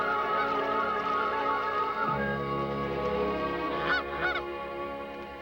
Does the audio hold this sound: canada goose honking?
yes